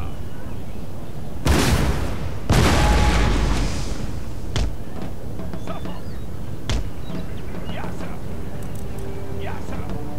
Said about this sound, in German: wir halten die Polen jetzt einfach unter Beschuss